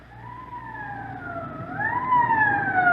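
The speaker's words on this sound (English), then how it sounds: "Code 3, that means red light and siren." A police car siren wails, sweeping slowly up and down in pitch, steady and fairly loud, with a low engine rumble beneath it.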